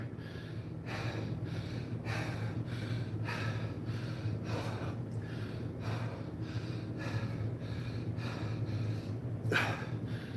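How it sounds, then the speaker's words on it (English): Heavy, rhythmic panting and gasping breaths right after a set of heavy deadlifts in a back workout, close and steady, repeating roughly every second with a low hum underneath. "I'm trying to catch my breath"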